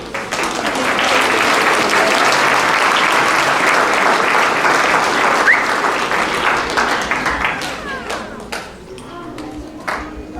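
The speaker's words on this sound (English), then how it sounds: "we'll give everybody a big round of applause at the end" Loud, sustained applause fills the room from the audience at a sixth grade elementary school graduation ceremony, steady clapping that fades slightly toward the end with a few sharp individual claps standing out.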